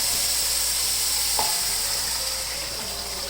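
Chicken yakhni stock poured into a sizzling pan of fried chicken masala, a loud continuous hiss and bubbling with a single brief knock partway through.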